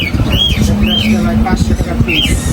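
Pigeons coo and call at a busy pigeon market in Madaripur, with short rising calls over constant chatter and a low steady hum.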